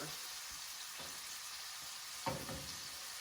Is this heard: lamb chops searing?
yes